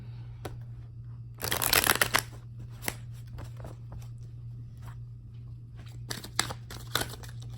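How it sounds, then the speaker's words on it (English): Oracle card deck shuffled with a dense riffling burst, then quieter scattered taps and slides as cards are pulled, all close and soft over a low steady hum. "I'm going to pull 2 more cards with this deck"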